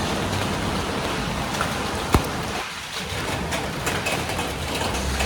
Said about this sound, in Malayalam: ഇതേ മഴക്കൊരു ഇത്തിരി കുറവുണ്ട്, പക്ഷെ കുട പിടിക്കണം, അങ്ങനത്തെ ഒരു മഴ